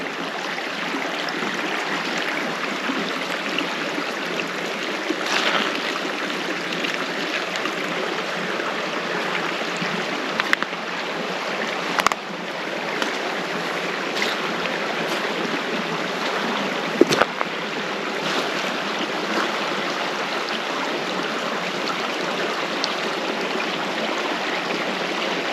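A creek flows beside a sandbar along a wooded pond ridge, a steady, full rushing hiss of water that holds constant throughout, with a few faint clicks and knocks on top.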